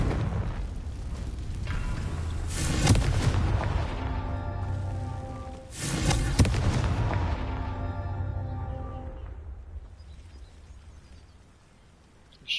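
A Confringo fire spell blasting a crumbling tower in the video game Hogwarts Legacy, with two big booming explosions a few seconds apart, each followed by a long rumbling, crackling debris tail that fades away, loud and with no voices.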